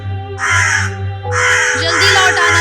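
A cartoon crow caws loudly and close, several harsh nasal calls in two bursts over a steady low hum from the soundtrack.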